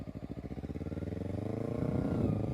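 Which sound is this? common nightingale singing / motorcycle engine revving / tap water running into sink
motorcycle engine revving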